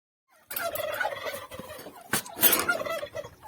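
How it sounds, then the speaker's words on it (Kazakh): Domestic turkeys kept on a village farmstead gobble loudly and close by, several overlapping rattling calls with a burst of louder gobbling near the end, no talking. "Мына жақта күрке тауықтар."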